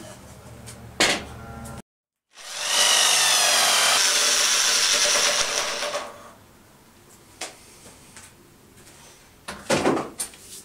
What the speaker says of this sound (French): maintenant, on passe à l'étape de percer le trou au milieu